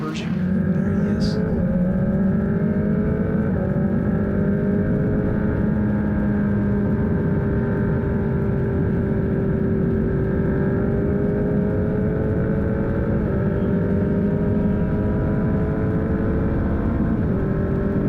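Open-wheel race cars battle for fourth place at Road America, engines roaring loudly past in a continuous high-revving drone with shifting pitch, close up, with no talk heard over them.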